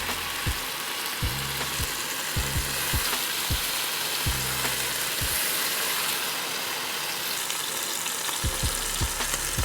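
Chicken pieces browning in a pan for butter chicken hiss with a continuous loud sizzle, while a low rhythmic thumping of repeated short knocks runs underneath.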